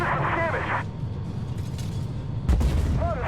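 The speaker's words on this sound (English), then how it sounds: "there's a shot into the Merkava Mark III" A tank cannon fires in Armored Warfare, a sharp heavy boom with low rumble landing near the end, preceded by mechanical whirring and a brief creak, with speech present across the clip.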